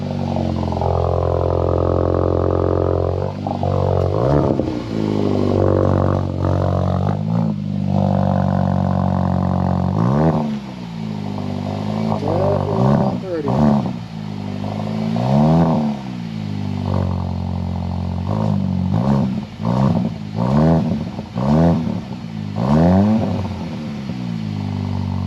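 A 2022 VW GTI MK8 with an ECS Tuning performance exhaust fires up and idles close by, then is blipped repeatedly, its exhaust note rising and falling in a series of sharp revs.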